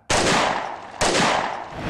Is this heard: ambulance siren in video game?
no